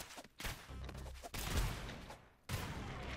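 Mortar shots in the video game ROUNDS, heavy booming blasts that come in bursts with short gaps, loud and rumbling, while players talk quietly underneath.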